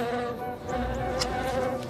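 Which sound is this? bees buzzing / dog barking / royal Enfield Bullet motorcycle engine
bees buzzing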